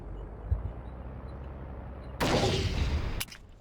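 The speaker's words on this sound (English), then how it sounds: "So it seems the Americans are using a PT-76 to basically bombard us still." Rumbling bombardment from a PT-76 amphibious tank in the Vietnam War game Battlefield Vietnam: low distant thuds, then a loud second-long burst of blast noise that cuts off abruptly.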